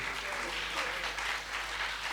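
Audience applause at a patriotic chant gathering: steady, dense clapping from a crowd, fairly loud and continuous throughout, with no speech over it.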